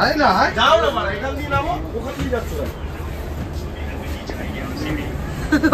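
Interior of an air-conditioned coach on a Sealdah to New Jalpaiguri train, a low steady rumble and hum beneath close voices and background chatter of passengers.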